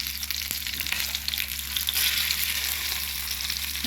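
Fish coated in masala frying in hot oil, a steady dense sizzle that stays loud and even throughout, with no voices.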